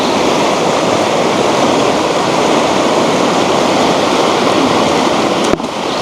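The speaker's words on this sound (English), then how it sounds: "this river is just blowing through there" A mountain river in New Mexico rushes past up close, a loud, steady broadband roar of churning water that holds unbroken throughout, with a brief sharp knock near the end.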